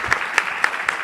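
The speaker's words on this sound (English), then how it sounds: "Can we get another round of applause?" Four evenly spaced claps ring out from an audience at an arts salon, crisp and close, though too few for a full round of applause.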